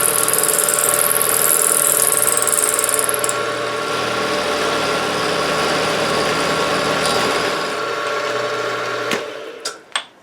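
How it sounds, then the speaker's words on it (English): A carbide cutter grinds a slot into an Uzi magazine with a loud, steady high-pitched whine that eases off near the end, followed by a couple of sharp metallic clicks. "If you're using a carbide cutter, it cuts really well."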